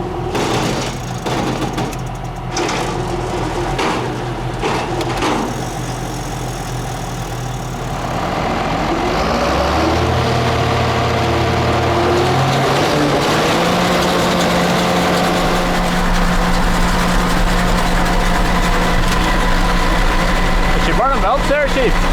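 A JF forage harvester engine is started and left running, a heavy low rumble that swells and settles into a steady loud drone, with people talking over it.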